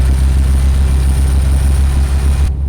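A Detroit 60 Series engine in American Truck Simulator with its engine brake engaged, giving a loud, deep, continuous rumbling drone that holds steady before cutting off abruptly at the end.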